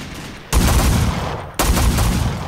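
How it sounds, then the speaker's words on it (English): Two loud gunshot bursts from a Roblox Wild West shooter game, each a sharp broadband blast with a long rumbling tail, spaced about a second apart with no talk. "The first three shots I missed."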